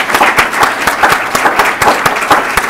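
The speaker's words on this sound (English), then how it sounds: "I'd like to give them a round of applause" Audience at a Santa Cruz County high school poetry reading and awards evening breaks into a round of applause: dense, loud clapping that holds steady throughout, with a few sharper individual claps standing out.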